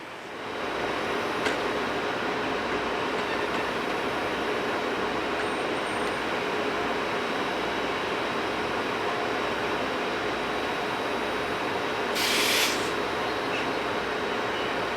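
A Stadler Euro 9000 locomotive passes through the station at Venlo, heard as a broad, steady rushing rumble that stays loud throughout, with a brief high squeal near the end.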